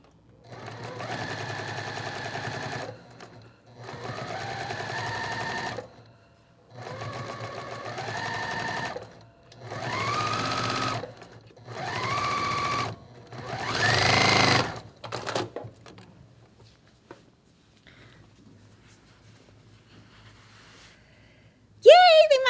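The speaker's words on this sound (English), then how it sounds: "now I'm gonna sew a seam. Hopefully all my points match up." A sewing machine stitches a quilt block seam in several short whirring bursts with brief pauses between, close and clear, ending in quiet handling noises.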